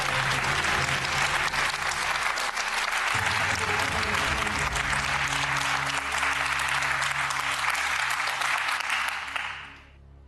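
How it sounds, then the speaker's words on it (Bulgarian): A studio audience at a TV quiz show applauds loudly and steadily for several seconds, a dense, even roar of clapping that fades out quickly at the very end. "Силни аплодисменти, поздравления!"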